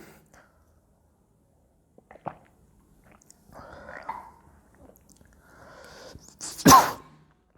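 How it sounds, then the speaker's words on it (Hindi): A single sharp cough near the end, loud and close, after quiet breathing and soft mouth sounds. "पता नहीं क्यों खांसी बहुत ज़्यादा आ रही है।"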